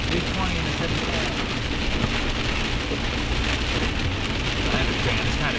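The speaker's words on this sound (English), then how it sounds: "It's raining." Heavy rain pattering steadily onto surfaces, a dense, loud and continuous hiss with scattered drops and a faint low rumble beneath, no voices heard.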